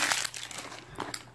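Old GameStop paper receipts crinkle and rustle in a handful of close, irregular crackles, with sharper bursts near the start and again toward the end.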